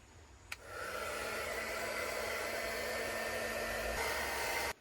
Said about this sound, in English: I am using my heat gun.